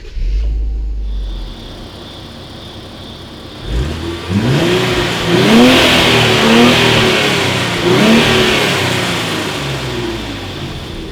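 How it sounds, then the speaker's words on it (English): A 2017 Infiniti Q50 Red Sport 3.0 twin-turbo V6 cranks via push-button start and catches after a quiet start, then revs up and down several times in loud, throaty bursts before settling into a rumble. "So it's got a nice V6 soundtrack"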